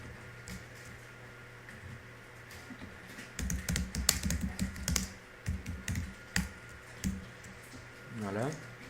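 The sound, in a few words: typing a search on a computer keyboard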